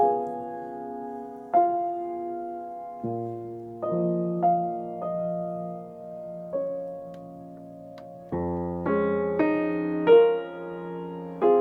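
Piano playing Debussy's Clair de Lune, soft sustained chords changing slowly with gentle re-attacks and rising toward a brighter registered passage near the end, quiet and close with no speech.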